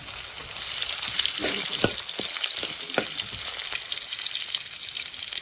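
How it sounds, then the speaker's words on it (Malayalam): Shallots, crushed garlic and ginger, and green chillies sauté in hot oil for a pickle, giving a continuous close sizzle with intermittent stirring scrapes and clicks. "എന്നിട്ട് നന്നായിട്ട് ഒന്ന് വഴറ്റിയെടുക്കുക"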